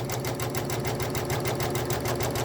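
An embroidery sewing machine runs at a modest speed, stitching across quilt seams with a steady, rapid mechanical hum and a regular needle-punching pulse, close and loud.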